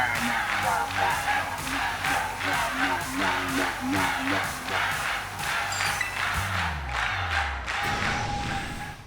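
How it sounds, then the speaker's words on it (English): A crowd cheers in the Pokemon Violet video game, rhythmic chanting and cheering pulsing steadily over game music, ending in a descending musical sweep. "What's all this noise I'm hearing? This crowd so hot it could wake the dead."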